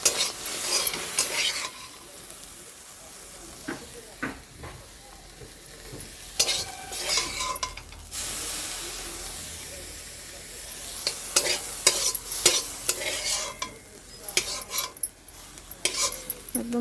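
Cooked greens are scooped out of a pan with a utensil, giving repeated scraping and metallic clinks over a soft background sizzle, close and intermittent.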